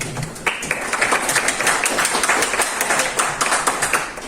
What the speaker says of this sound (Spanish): Por favor, le damos un fuerte aplauso.